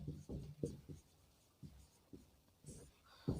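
Chalk or marker strokes on a board during a class 10 maths lesson, a quick series of short scratchy taps and scrapes in irregular bursts, close and fairly quiet, with no speech.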